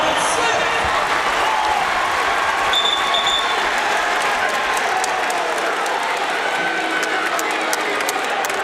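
A packed arena crowd at an NC State men's basketball game roars after a freshman's buzzer-beating three-pointer against Virginia Tech, a dense, steady wash of cheering and applause that holds loud throughout.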